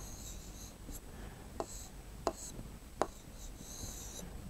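A pen writes an Urdu word by hand on paper, faint close scratching punctuated by three or four light taps as strokes and dots land, in an otherwise quiet room.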